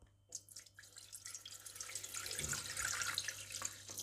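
Water runs from a kitchen tap into a container for homemade bread dough, starting with a few drips and splashes and then building into a steady, faint, hissing pour with no talking.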